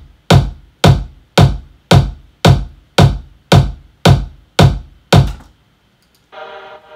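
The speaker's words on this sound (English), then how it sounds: "I layered 2 kicks together." Layered kick drum, a deep bottom kick stacked with a top click layer, struck ten times at an even, quick pace, each hit punchy and close. A brief buzzy synth tone follows after a short gap.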